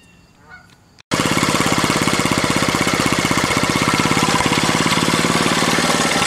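A 1967 Honda CL90 motorcycle engine starts after a quiet moment and runs loud and close with a rapid, buzzy putter, missing slightly with small uneven stumbles in its rhythm while it warms up.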